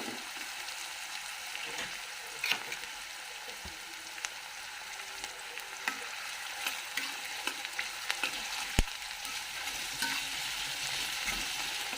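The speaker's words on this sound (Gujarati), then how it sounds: "ડુંગળી થોડીક સંતળાઈ ગઈ છે." Chopped onions sizzle softly in oil in a pan for a Saurashtra-style green olo, a steady quiet frying hiss with scattered small pops and crackles, no voices.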